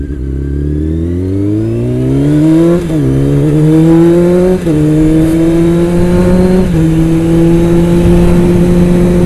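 A motorcycle engine whines loudly and continuously while engine braking hard in first gear, its revs climbing and then holding high with slight dips along the way.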